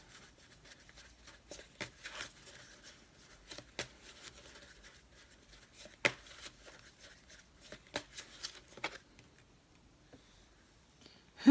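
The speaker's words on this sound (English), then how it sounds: "I'm going to pull out one last card." Tarot cards being shuffled and handled at close range, with soft repeated riffling flicks and light taps spread irregularly, fairly quiet.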